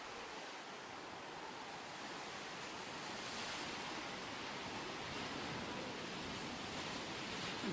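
Sea surf along the rocky Crimean coast near Novyi Svit, heard as a steady, faint broadband wash of waves from a distance, with no voices.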